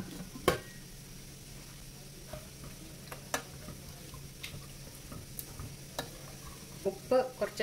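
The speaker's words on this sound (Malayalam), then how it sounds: "ഇത് കറിയിലേക്ക് ചേർത്ത് കൊടുക്കാം" Steamed rice dumplings are stirred into a simmering curry in a pan, soft scraping and light clinks of a spoon over a faint bubbling sizzle, close and quiet.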